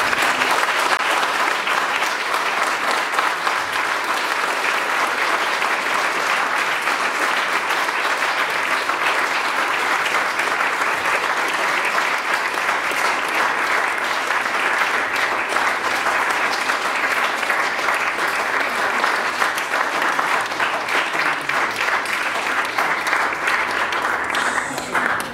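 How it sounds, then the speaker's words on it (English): Sustained applause from a large crowd, a dense steady patter of clapping that stays loud and even throughout with no pauses. "I'd like it if we could all give a big round of applause."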